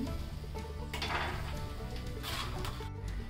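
Peanuts frying in oil at medium heat for crunchy roasted poha chivda, a steady dense sizzle and bubbling with occasional louder surges, close and continuous without talk.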